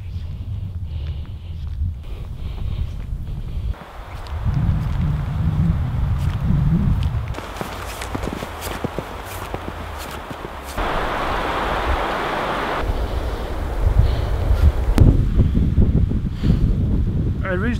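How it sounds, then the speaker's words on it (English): Heavy wind during a hard snowfall roars and gusts against the microphone, swelling and easing in waves, with low rumbling buffets and a hissing rush that changes over time. "it's snowing hard and it's really windy"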